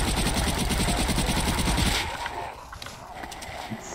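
Rapid automatic gunfire from a machine gun in the Zombie Stories video game, set in a boat house, rattles loudly in a steady burst for about two seconds, then gives way to quieter game ambience with a few scattered sounds.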